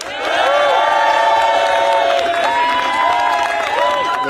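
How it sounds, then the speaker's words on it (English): Large crowd at a by-election count cheering and applauding the newly elected Kingswood MP, loud sustained cheers and whoops with clapping throughout, a voice rising above the crowd. "A big round of applause, please,"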